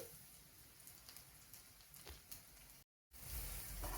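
Onion frying in a pan while cooking beetroot palya, a steady faint sizzle like light rain that runs on evenly, briefly cut by a short gap of silence and then returning somewhat louder.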